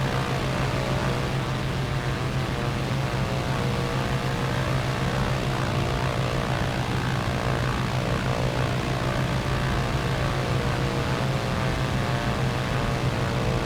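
Propeller aircraft on final approach and landing on the runway, a constant loud drone of engine and airscrew with a steady low hum that continues unchanged for the whole stretch, with no talking.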